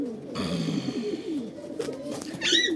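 Several perched domestic pigeons coo softly and repeatedly nearby in a low, rolling murmur, with a brief higher bird call near the end.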